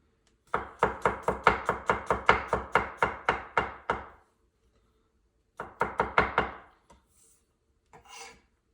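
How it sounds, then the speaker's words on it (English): A knife thinly slices peeled garlic cloves on a cutting board in a fast, steady run of crisp knocks, close and clear, then pauses before a shorter second burst, with no talking. "So I'm gonna thinly slice the peeled garlic"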